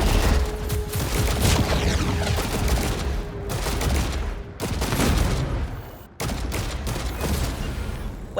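Sustained turret gunfire roars from a space-combat scene in the video game Chorus, a loud continuous barrage with a steady tone under it, cut by two short breaks before resuming.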